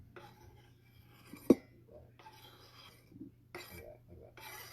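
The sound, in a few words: tossing salad in a bowl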